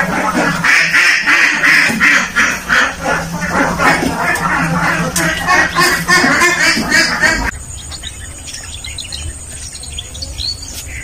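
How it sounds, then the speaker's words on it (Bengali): A flock of ducks quacks loudly and continuously at a duck farm at Arial Beel wetland, overlapping calls close by. The quacking gives way to quieter outdoor ambience with thinner bird chirps for the last few seconds. "এখানে হাঁস"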